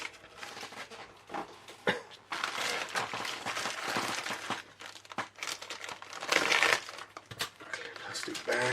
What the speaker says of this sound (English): Plastic bag, and there's a little separate bag there for the clear parts.